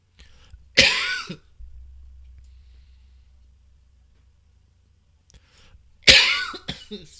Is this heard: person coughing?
yes